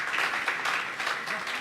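Audience applause for a poet at a Hindi poetry gathering, a steady burst of many hands clapping, moderately loud and fairly close, with pulses of rising and falling intensity and no talking.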